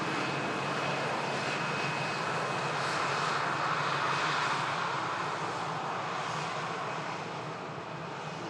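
EasyJet airliner arriving at Manchester Airport, a continuous loud jet engine roar with a thin steady whine, swelling slightly midway and easing off toward the end.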